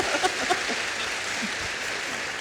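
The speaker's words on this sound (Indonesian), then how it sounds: "kita tepuk tangan untuk rektornya" Studio audience on an Indonesian talk show applauds an 82-year-old university rector; a steady wash of clapping fills the stretch, fairly even in level and without distinct single claps.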